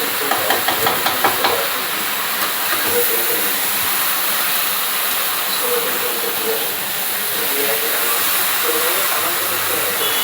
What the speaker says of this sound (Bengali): অপরদিকে আমি কেটলিতে জল গরম হতে বসিয়েছি, মাংসতে গরম জল দেব।